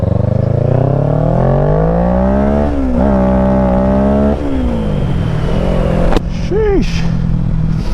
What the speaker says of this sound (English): I took them off just so I could hear the exhaust better up here.